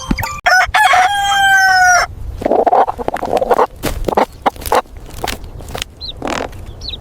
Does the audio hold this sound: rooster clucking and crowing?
yes